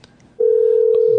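After a brief quiet moment with faint clicks, a steady telephone dial tone starts abruptly and holds loud and unbroken to the end.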